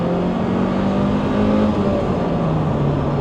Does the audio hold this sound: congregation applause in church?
no